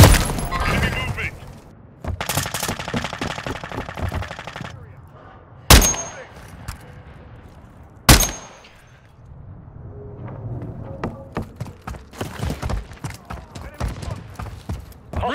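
Gunfire in Call of Duty Modern Warfare 3 multiplayer, with bursts of rapid automatic shots and two sharp, loud blasts standing out among scattered shots and game noise.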